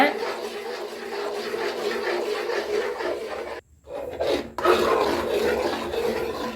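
A spoon scrapes continuously across the bottom of a pan of thickening Bombay halwa, giving a close, steady rasping and rubbing with one brief pause partway through before the scraping resumes.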